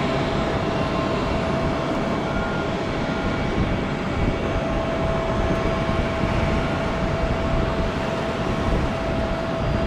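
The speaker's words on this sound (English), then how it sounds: "They're taking off on 36 left and 36 center today" An airliner roars down the runway on takeoff at Amsterdam airport, a dense, steady rumble with a thin whine on top, loud and unbroken throughout.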